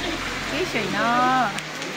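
Steady rain patters and hisses in the background as a person speaks briefly over it.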